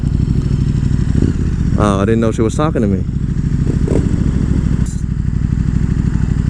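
A 2018 KTM 1290 Super Duke R being ridden, its engine droning steadily and close up while a rider talks briefly over it.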